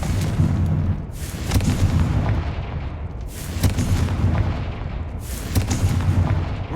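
Confringo explosive spells in Hogwarts Legacy go off as repeated booming blasts, three big bursts spaced a couple of seconds apart over a loud, continuous rumble.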